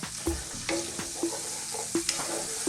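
Beef and tomato curry with minced garlic and ginger sizzles softly in a pan over low heat while a spoon scrapes and stirs in a steady series of light knocks.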